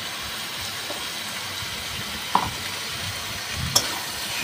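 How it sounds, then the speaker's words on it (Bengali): Chicken sautés with spices and salt in a hot pan, a soft steady sizzle broken by two or three sharp scrapes of the spoon being stirred, quiet and close with no voices. "একটু নুন দিয়ে ভালো করে নেড়ে মাংসটা কষাবো"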